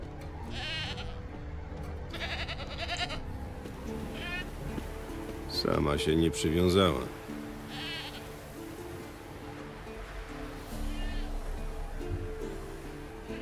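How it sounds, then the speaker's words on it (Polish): Goat bleating in The Witcher 3 video game, several wavering bleats scattered over ambient game sound, one louder burst midway, with someone talking over it. "O, jest kózka."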